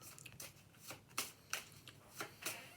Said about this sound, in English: I have shuffled the initiative deck.